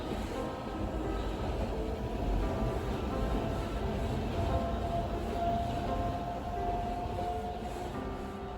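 A train rumbles past at a moderate distance beside rice fields and hills, a steady rolling roar of wheels on rails with a faint high metallic squeal partway through.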